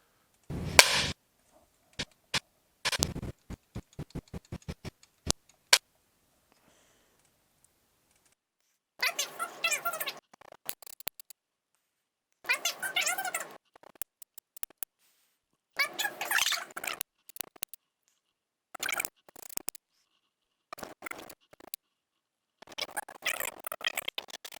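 A series of sharp wooden stick claps used as a sync marker, sharp isolated cracks first, then a quick rattling run of taps, followed by several louder bursts spaced a couple of seconds apart against near silence.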